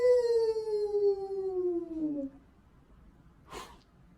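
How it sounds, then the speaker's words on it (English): A long, falling howl from a canine character in a narrated story sounds loud for about two seconds and is followed by quiet, then a short breathy burst near the end. "When Luna howls, it's like seeing a full moon"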